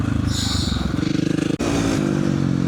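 A dirt bike engine roars continuously while riding across Dubai desert sand. The buzz is close and loud with wind and rattle, and it drops off briefly before picking up again.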